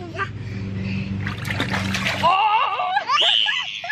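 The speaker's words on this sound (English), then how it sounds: "Dog, why you splashing?" Water splashing and sloshing up close in a 9 ft family pool as a dog splashes, followed by voices talking and exclaiming over the splashes.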